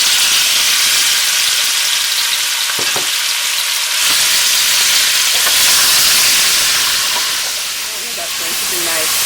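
Loud, continuous sizzling and hiss of beef searing in a hot pan for curry, close up, with occasional scraping and stirring clatter.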